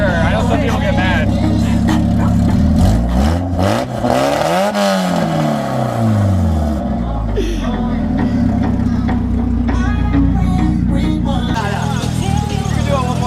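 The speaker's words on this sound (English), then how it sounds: "You mind if I redline this car?" At an outdoor car show, a car engine is revved hard to the redline, its pitch climbing and falling in repeated loud sweeps before settling into a rough, roaring idle, with people talking and reacting nearby.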